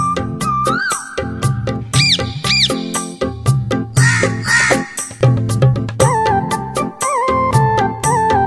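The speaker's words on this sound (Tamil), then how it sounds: "காக்கா என்பது அழைப்பின் ராகம்" Crows caw loudly and repeatedly in close, rhythmic harsh calls, layered over a busy musical backing with other bird-like sounds.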